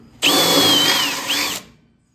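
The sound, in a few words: drilling through sheet metal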